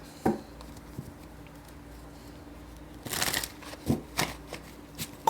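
Tarot cards are shuffled for a reading in short riffling bursts with light taps and pauses, close and clear in a quiet room.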